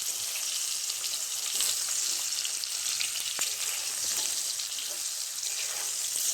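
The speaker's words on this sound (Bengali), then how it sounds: "আমি এবার লাল লাল করে আলুগুলোকে ভেজে নেব" New potatoes frying in oil with a little salt and turmeric for aloo dum, a dense continuous sizzle heard close up with an occasional faint clink, no voices.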